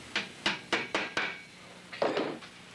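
A tack hammer taps tacks to fix a leather insole onto a shoe last, giving five sharp, evenly spaced knocks followed by a short cluster of blows, close and clear in a quiet room.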